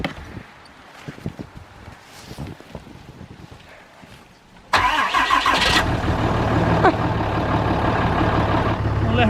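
A truck in a snowstorm at Game Lodge Campground, Custer State Park, starts abruptly after some shuffling and clicks, then settles into a loud, steady idle rumble close by.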